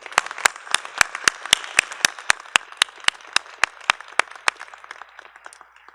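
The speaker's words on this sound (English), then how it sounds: "join me in recognizing him with a round of applause" Sparse, evenly spaced claps ring out one after another for Dr. Platt at a fall business school commencement, sharp and fairly close, thinning toward the end with no talking.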